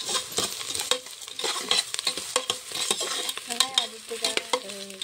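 Onions for a home-cooked biryani are sautéed in a pan, with frequent clinking stirs and scrapes of a spoon over a light sizzle, close and uneven in rhythm, no talking.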